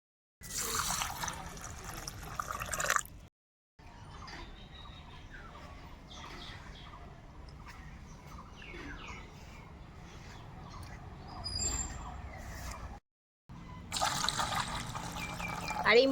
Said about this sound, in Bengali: এই যে এখানে নিয়ে নিয়েছি মুসুর ডালটা এবার বেশ ভালো করে ধুয়ে নেব